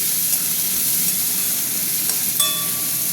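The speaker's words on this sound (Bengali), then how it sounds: "তেল গরম হয়ে গেছে পেঁয়াজ দিয়ে দিচ্ছি পেঁয়াজ দিয়ে দিলাম" Onions fry in hot oil with a steady, dense sizzle and a brief clink of a utensil near the end.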